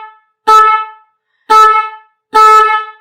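An aftermarket motorcycle pop horn sounds three short, loud, bright blasts, each under a second and separated by short pauses, close up and without voices.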